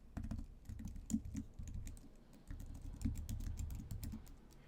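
Fairly quiet, steady clicking of fingers typing a URL on a computer keyboard, in a continuous run of keystrokes with brief pauses, no voices.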